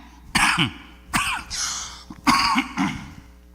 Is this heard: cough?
yes